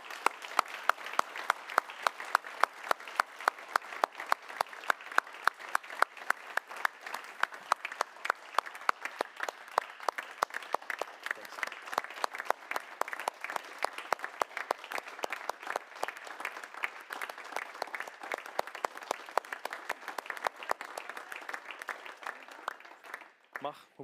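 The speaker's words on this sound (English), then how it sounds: "join us in a big applause for the legacy of Hans van Balen" Conference audience at a liberal political event applauding together, a dense sustained clapping from a large crowd that stays strong and even for a long stretch before tapering off at the end.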